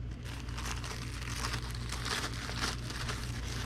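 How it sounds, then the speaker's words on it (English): A plain white plastic bag crinkles and rustles steadily as a comic book is slipped inside for packing, close and continuous with no one speaking. "we'll just put it in this plain white plastic bag"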